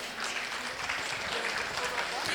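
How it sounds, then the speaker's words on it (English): Audience giving a round of applause for a group of girls at a community foundation event in Blacktown, steady, moderately distant clapping with talk mixed underneath. "Big, big round of applause for these girls."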